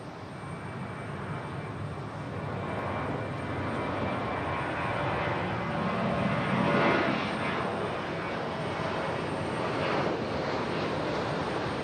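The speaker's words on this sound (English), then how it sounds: "737 getting a move on" A Boeing 737 jet airliner moves at Raleigh-Durham International Airport, a steady distant engine roar that swells slightly midway and then holds, heard alone without talk.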